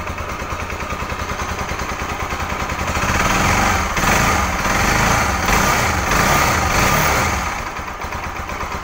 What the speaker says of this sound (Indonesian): Dan ini langsamnya terlalu kecil men, makanya kayak mau mati kayak gini ya.